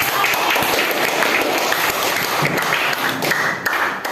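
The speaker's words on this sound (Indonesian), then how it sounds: "Tepuk tangan dulu." Classroom applause from a group of students during a chemistry lesson, steady dense clapping sustained for several seconds with a few louder taps mixed in.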